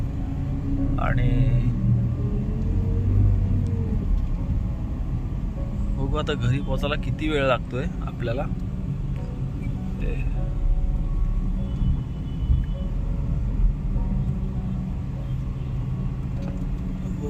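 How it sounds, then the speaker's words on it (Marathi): Heavy night traffic around a small car, a Tata Nano, crawling through Dadar in Mumbai at about 11:15 pm: a steady engine and road rumble, with a cluster of horn-like tones midway, under near-constant talk inside the car. "ट्रॅफिक खूप लागलाय"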